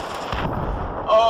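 Tank cannon fire in the video game Battlefield 3, a heavy low booming blast rolling out over about a second, loud and close, with a faint tonal game sound at the end.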